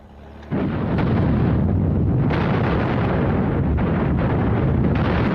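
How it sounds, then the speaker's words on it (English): Soviet Red Army artillery barrage on Berlin in April 1945, opening as a sudden loud onset of dense, continuous rumbling booms that roll on without a break, with no voices. "it unleashed its opening barrage on Berlin and advanced towards the city"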